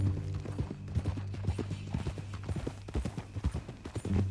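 Steady clip-clop of horse hooves at a walking pace in the video game Red Dead Redemption 2, close and clear, with a faint ambient hum behind.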